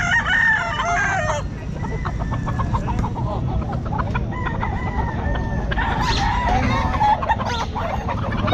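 Young roosters, stags about ten to eleven months old, crow loudly and repeatedly at a poultry market in Santa Maria, Bulacan. Clucks and other birds fill a constant busy background.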